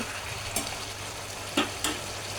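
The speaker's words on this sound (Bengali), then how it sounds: "আমি এখন রান্না করব লাউয়ের খোসা আর ছোট আলু চিকন করে নিয়েছি, ওটাকে ভাজি করব" Chopped bottle gourd peel and thinly cut small potatoes fry in a pan with a steady, even sizzle, broken by a few brief stirring scrapes.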